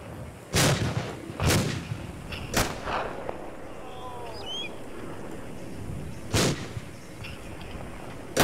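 Grenade explosions in the video game Arma II: four loud, booming blasts, roughly a second apart at first and then spaced more widely, with a fifth at the very end and a faint bird chirp in between.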